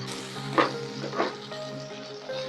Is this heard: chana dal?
yes